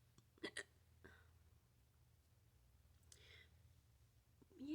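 A person with the hiccups gives several sharp hiccups in quick succession near the start, then another softer one about a second later, close and fairly quiet against a near-silent room with faint breathy sounds.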